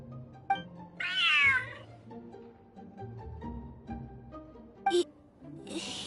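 Cat meowing in Genshin Impact, one drawn-out, whiny meow early on followed later by shorter cat cries, set against soft game music and background sounds.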